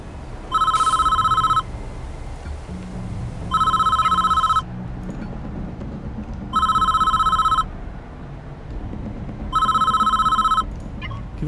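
A telephone rings repeatedly in the prison-management video game Prison Architect, four electronic bell bursts of about a second each, evenly spaced, loud over a low game background hum.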